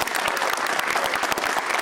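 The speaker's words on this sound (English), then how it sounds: "if you would just join me in another round of applause" An audience at a panel event on traumatic brain injury applauds, a dense, steady patter of many hands clapping together filling the whole moment.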